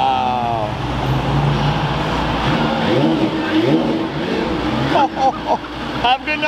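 A Porsche Singer DLS accelerates down a city street at night, a loud rising engine roar close by that revs and climbs before breaking into sharp bursts, with traffic noise and people talking.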